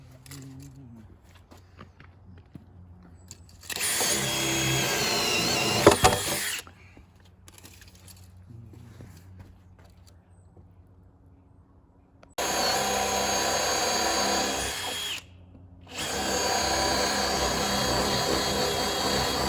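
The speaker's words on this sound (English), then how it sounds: "Nothing like drilling through a knot" A power drill bores through a knot in wet wood for a mud sill, two loud sustained runs of grinding whine separated by quieter handling noise and a brief pause.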